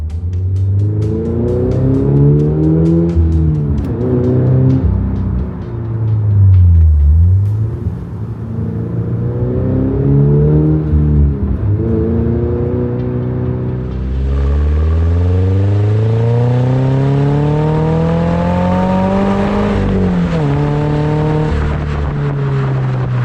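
Loud engine drone inside the cabin of a 2026 Toyota GR86 Yuzu Edition while driving, a steady rumbling hum that rises and falls in pitch through gear changes and acceleration, with wind noise joining in the second half.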